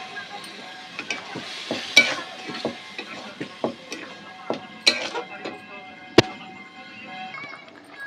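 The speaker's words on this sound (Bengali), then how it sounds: "দেখুন বন্ধুরা আমার সবজি ঘুগনিটা ফুটছে এবার" Vegetable ghugni made with chana dal and chilli powder bubbling in a pot, with soft steady simmering and clear sharp clinks of a spoon against the pot scattered throughout, no talking.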